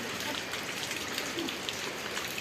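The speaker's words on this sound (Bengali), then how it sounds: "এই বৃষ্টি পড়তেছে জমে" Heavy rain pours down steadily outdoors, a dense, close hiss of drops pattering on surfaces without any letup.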